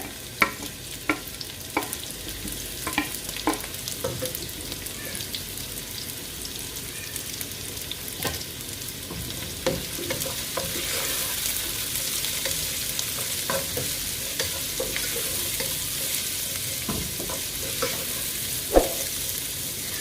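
Steady sizzle of onions sautéing in coconut oil for chicken stew, with a spoon scraping and clacking against the pan every second or so, close and fairly quiet, no voices.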